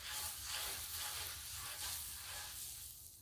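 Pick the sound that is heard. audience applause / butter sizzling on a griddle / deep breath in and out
butter sizzling on a griddle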